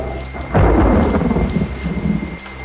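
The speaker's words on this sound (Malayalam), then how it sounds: "പിന്നെയും മഴ!" A thunderclap rumbles loud and close over steady falling rain in an animated cartoon storm, then fades back into the patter of rain.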